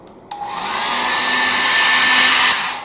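Hair dryer blowing steadily on a gel plate reduction print, switched on abruptly and holding a loud, close, even whoosh with a faint whine for about two seconds before it cuts off.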